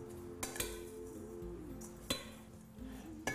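Flaounes dough ingredients, including mastic, cheese and sultanas, being mixed in a bowl: a few sharp clinks of utensil against the bowl over soft stirring and scraping, close and fairly quiet, with no talking.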